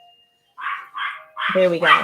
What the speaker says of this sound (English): My dogs are about to go mental because there's a delivery van just come to my front door.